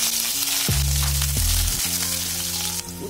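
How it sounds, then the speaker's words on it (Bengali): Bitter gourd fries in hot mustard oil, a loud, close, continuous sizzle with dense crackling that holds steady for a few seconds before easing slightly at the end. "এবার এই তেলের মধ্যে আমি উচ্ছেটা ফ্রাই করে নিচ্ছি।"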